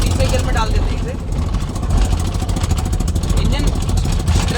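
A used Tata Nano with 12-inch tyres and a torn silencer runs in third gear, its small engine putting out a rough, pulsing drone up close under continuous talk.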